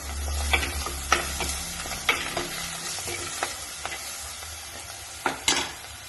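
Onion and tomato with turmeric and salt sautéing in a pan for sardine curry, a soft background sizzle punctuated by sharp spoon-on-pan stirring clicks at uneven intervals, near and quiet.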